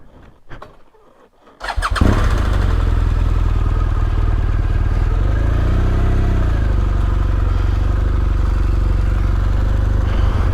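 A motorcycle engine starts after a few quiet handling sounds, then settles into a loud, steady, close drone with one brief swell in pitch. Nobody speaks.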